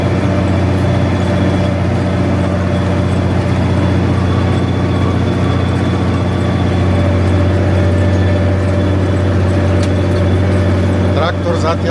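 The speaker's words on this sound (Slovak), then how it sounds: "Traktor zatiaľ pracuje ZTS ako včelička." A ZTS 16245 tractor works under load pulling a Kelly disc harrow for fine stubble cultivation in a field, its engine droning steadily and loudly up close for the whole stretch, with a brief clatter near the end.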